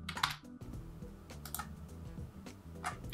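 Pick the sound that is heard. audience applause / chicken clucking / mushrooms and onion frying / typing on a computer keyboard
typing on a computer keyboard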